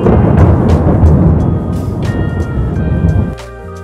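Thunder from a lightning storm over the Hudson River in Manhattan: a loud, continuous low rumble that rolls for about three seconds, then drops off abruptly to quieter background.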